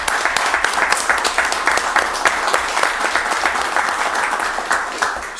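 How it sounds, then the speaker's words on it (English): Audience at a city council meeting applauds, dense steady clapping from many hands that holds for several seconds at moderate loudness. "definitely worthy of applause"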